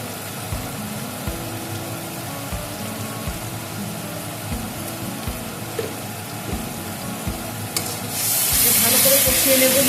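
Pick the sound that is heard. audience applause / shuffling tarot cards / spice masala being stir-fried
spice masala being stir-fried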